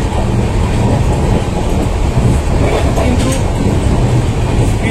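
The Garib Rath Express passenger train runs at speed near 100 km/h, heard from inside a coach as a dense, continuous rumble and rattle with faint rhythmic wheel clatter.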